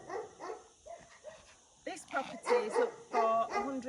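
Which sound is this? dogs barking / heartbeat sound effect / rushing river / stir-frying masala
dogs barking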